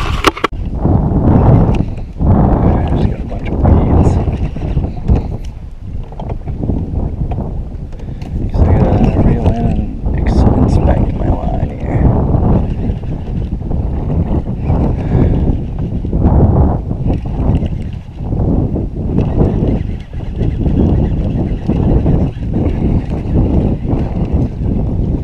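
Wind buffets the microphone in gusty waves on a secluded lake during solo canoe fishing, loud and continuous, with a few knocks against the boat.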